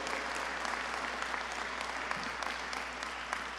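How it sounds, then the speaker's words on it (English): Audience applause at a police reform bill signing, a steady dense wash of many hands clapping at moderate level for several seconds with faint crowd murmur underneath. "Give this young man a round of applause for his incredible work."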